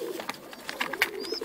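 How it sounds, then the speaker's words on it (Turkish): Homing pigeons pecking at bread, with soft coos and wing flutters in short irregular bursts close by, a thin chirp near the end. "Posta güvercin."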